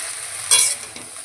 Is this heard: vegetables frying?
yes